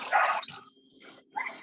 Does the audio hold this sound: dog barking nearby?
yes